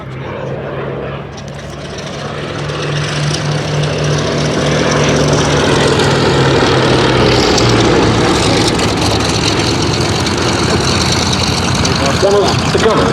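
A Westland Lysander propeller aircraft, V9312, flying at the East Kirby Airshow 2019, its engine drone rising and holding loud and steady, with a commentator's voice over the roar.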